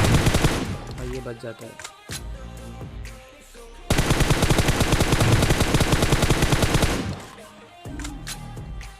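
Automatic M4 rifle fire in PUBG on the Erangel map, loud rapid bursts in two long stretches with brief gaps between them, with a voice talking over the shooting.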